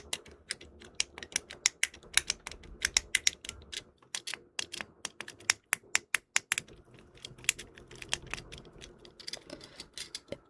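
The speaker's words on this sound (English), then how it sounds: "Some of the buttons are silent and some of them click, which is interesting." Fidget toy buttons click in quick, crisp, irregular bursts close up, dense sharp taps with brief pauses between runs, alone without any voice.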